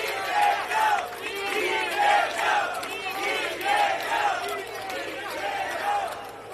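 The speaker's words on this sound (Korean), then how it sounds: "여러분 힘찬 박수 함성을 부탁드립니다" A crowd at a Korean Democratic Party campaign rally claps and roars, with cheers and shouted calls swelling in repeated waves over continuous dense applause.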